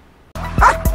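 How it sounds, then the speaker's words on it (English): A protection dog barks twice in quick succession after a brief silence. The deep, loud barks are close by, and a faint whine carries between them. "The dog is here barking and just holding the threat."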